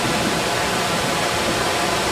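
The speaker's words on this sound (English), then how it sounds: "as we come up right here, you can see the waterfall" Constant hissing roar of a waterfall at Silver Dollar City theme park, steady and close with no breaks and no voices.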